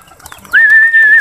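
A single pigeon call rings out close by, one drawn-out whistling note held for about half a second after quiet background rustling.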